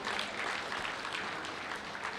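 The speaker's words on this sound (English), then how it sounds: "A round of applause for Sarah" A room of people applauding for a woman named Sarah at a cooking event, steady broadband clapping that holds at an even level for the whole stretch.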